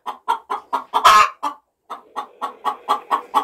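A hen in a coop clucks in a quick rhythmic series of about a dozen close, loud clucks, broken by a louder squawk and a brief pause.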